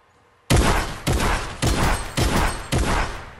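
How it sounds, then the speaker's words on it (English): Shotgun firing in the Fortnite video game, five loud sharp blasts in a steady rhythm, each ringing out briefly before the next, with no talk. "This shotgun's stupid."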